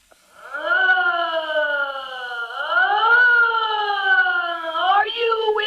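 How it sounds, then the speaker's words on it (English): A fire engine siren from an old-time radio broadcast wails in long rising and falling sweeps, loud and steady with no other sounds. "the sound of a siren on a fire engine might be used to identify the fire insurance"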